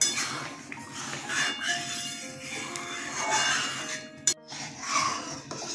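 Bitter gourd and lentils (matar dal) stirred in a pan after salt and a little sugar go in, with a steady scraping and sizzle and a few sharp clinks of the spoon against the metal, close by.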